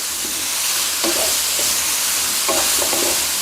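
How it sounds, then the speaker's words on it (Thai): Minced pork and pumpkin being stir-fried in a pan, a constant loud sizzle broken by a few scraping stirs of the spatula. "ใส่ฟักทองลงไป ผัดคลุกเข้ากันก่อนนะครับเดี๋ยวค่อยใส่น้ำ"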